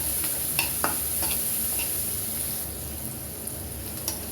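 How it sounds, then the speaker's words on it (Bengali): Onions stirred slowly in a pan over a medium flame until brown, a steady low sizzle with sparse, light taps and scrapes of a spoon, close and quiet. "স্লোলি স্টারিং করে আমি এটা বাদামি কালারে নিয়ে যাব।"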